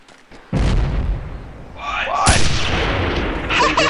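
Gunfire from the video game Delta Force: Black Hawk Down, loud and close, with repeated booming shots and blasts in a dense, continuous barrage that swells again toward the end.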